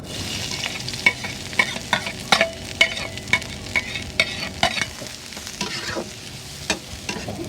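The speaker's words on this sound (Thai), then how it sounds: "ครัวพริกเสร็จก็คั่วหอมกระเทียมต่อเลยนะครับ" Garlic is dry-roasted and stirred in a pan for Thai chili paste with minced pork, giving a soft steady sizzle with repeated close scraping and tapping of the utensil against the pan.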